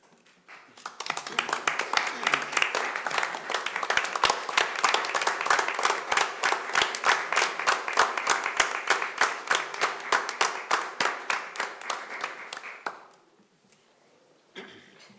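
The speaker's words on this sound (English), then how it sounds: "would you join me in one round of applause for" A room of people at a school board meeting gives a round of applause: dense, steady clapping that holds for about twelve seconds and then quickly dies away.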